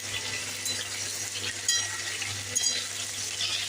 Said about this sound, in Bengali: পটলগুলো ভেজে নিচ্ছি